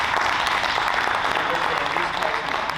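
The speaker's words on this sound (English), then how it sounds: "Let's give them a round of applause." Audience applause for graduates at a CareerSTART graduation ceremony, a continuous, even burst of many hands clapping close by, without talk.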